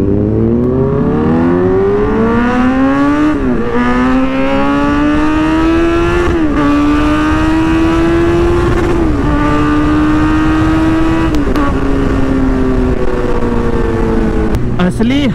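A Suzuki Hayabusa motorcycle accelerates hard through repeated gear shifts, its engine pitch climbing steadily then dropping at each change, loud and close throughout with a brief rev near the end.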